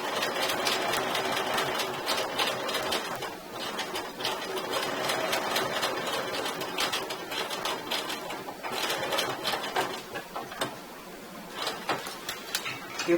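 A sewing machine stitches the first seam of a rounded zipper on a half-moon makeup pouch, running steadily and close with rapid needle clatter and a few brief pauses in the motor's buzz.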